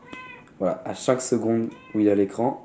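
A house cat meows several times in short, close, voiced calls, with someone speaking French over and between them.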